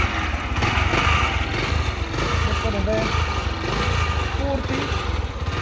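A Yamaha YB125 motorcycle engine runs at close range, a steady buzzing drone with slight pitch shifts as it revs, while someone talks over it.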